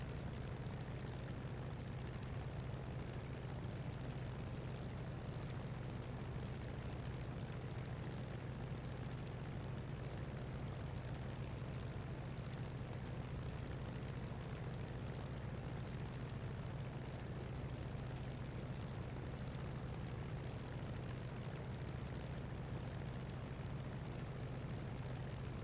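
An La-7 fighter's piston engine runs steadily while warming up, a continuous loud drone with a strong low hum that holds an even level throughout, with no other sounds.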